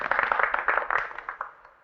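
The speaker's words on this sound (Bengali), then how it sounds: "জোরে হাততালি দাও।" A small group claps hands briefly, a quick patter of close, fairly loud claps that thins out and dies away within two seconds.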